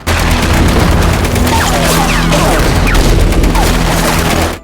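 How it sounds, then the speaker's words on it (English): Battlefield gunfire from soldiers firing at Soviet troops near a trench in a swamp: a loud, dense fusillade of overlapping shots and booms, with whistling ricochets streaking through, continuous for several seconds before cutting off abruptly. "Consumed with rage, William gave the order to resume firing"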